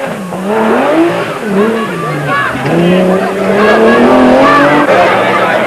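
Rally vehicles in the Toyota 1000 desert race, including a Nissan Safari, grind through thick sand with loud, wavering engine revs rising and falling, close and continuous, mixed with tire scrabble.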